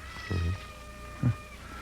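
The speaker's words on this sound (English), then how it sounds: "There's her cat." A cat meows twice indoors, a longer call followed by a short one about a second later, both fairly quiet against a faint steady background hum.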